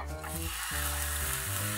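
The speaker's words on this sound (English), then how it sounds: "You hear that sizzle?" Potatoes frying in a pan give a dense, steady sizzle, close and loud, with a short dip partway through before the hiss picks back up.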